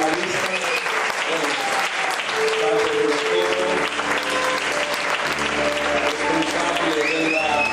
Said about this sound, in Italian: Un grande applauso